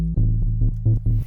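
A low synth bass line with a delay effect plays short punchy notes in a bouncy rhythm, each followed by quieter repeats, loud and alone.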